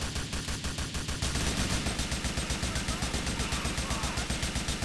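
Rapid automatic gunfire rattles in GTA 4, first as sharp separate bursts and then as a dense, evenly spaced stream of shots, loud and close and continuing throughout.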